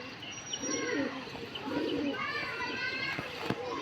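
Pigeons at a rooftop perch coo in soft, repeated throaty rolls, close and layered with faint chirps, while a person talks over them throughout.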